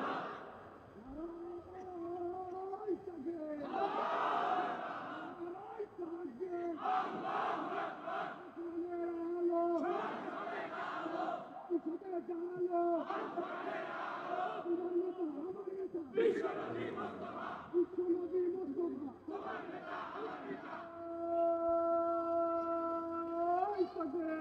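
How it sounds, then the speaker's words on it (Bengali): A large crowd at an Islamic religious gathering in Bangladesh chants the political slogan "Islami rajniti zindabad" in loud, repeated call-and-response bursts, each roar rising and falling in a steady rhythm. "আমি স্লোগান দিই, ইসলামী রাজনীতি জিন্দাবাদ, জিন্দাবাদ। স্লোগান দেন,"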